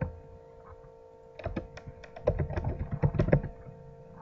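Quick, uneven keystrokes on a computer keyboard tap out an EL expression, close and clear over a faint steady hum, with no talking.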